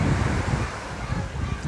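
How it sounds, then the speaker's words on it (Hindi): High sea waves surge along the shore at Bandra in Mumbai, a steady, close roar of surf mixed with gusty wind buffeting the microphone throughout. "समुंदर बहुत ज़्यादा चढ़ा हुआ है दोस्तों, आप देख सकते हैं समुंदर इतना ज़्यादा चढ़ा हुआ है, पानी बहुत ज़्यादा है।"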